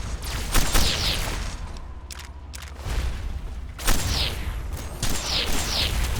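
Loud bursts of explosions and rapid gunfire from Fallout 3, with booming impacts and a dense, chaotic battle din throughout.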